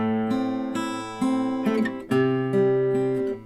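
An electric guitar played note by note, each A and following notes struck cleanly and then cut short or fading, about five distinct plucks with bright harmonics, close and alone.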